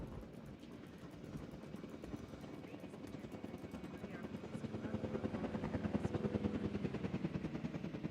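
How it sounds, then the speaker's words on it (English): A helicopter flies in Jurassic World Evolution 2, a steady rapid rotor chop that grows louder and nearer over several seconds, with a voice talking over it. "Mind the chopper."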